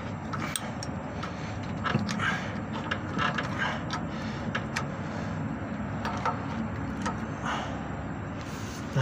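A wrench clicks and ratchets while brakes are being adjusted on a vehicle, with irregular metallic ticks and rattles running steadily under a dense mechanical background throughout.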